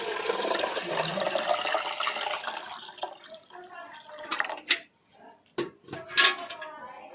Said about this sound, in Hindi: इसके बाद आपको इस बर्तन में पानी डाल लेना है।